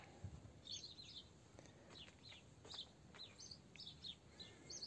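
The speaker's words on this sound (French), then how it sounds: "T'entends tous les oiseaux?" Small birds chirp and sing outdoors in a garden, repeated high tweets scattered across a soft, quiet background with no talking.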